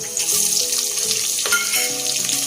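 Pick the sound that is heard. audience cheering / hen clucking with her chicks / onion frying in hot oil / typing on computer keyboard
onion frying in hot oil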